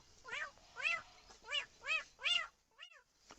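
A human voice imitates a cat, giving six short rising-and-falling meows in a steady rhythm, close and fairly quiet with no other sound.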